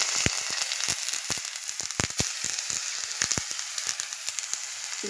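Chopped tomato hits hot oil left over from frying pomfret, giving a loud sizzling hiss broken by many sharp crackling pops and spatters, close up with no talking.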